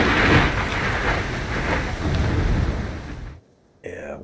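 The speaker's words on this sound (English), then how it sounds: "Wait for that storm to pass." Thunderstorm with heavy rain in the Ark game on a Mid Valley map, a loud, dense wash of rain and rolling rumble that cuts off abruptly near the end, followed by a brief burst of other sound.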